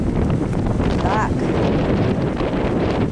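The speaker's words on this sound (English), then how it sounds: "Very windy." Strong seaside wind after a night of storms roars steadily as broadband rumble against the microphone, with a voice speaking briefly over it.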